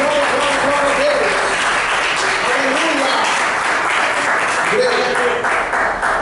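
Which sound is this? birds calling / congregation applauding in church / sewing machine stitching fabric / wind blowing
congregation applauding in church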